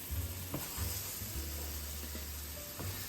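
Small pieces of tuna steak frying in a pan with a little oil: a quiet, steady sizzle and hiss, broken by faint pops and a few soft scrapes, with no talk.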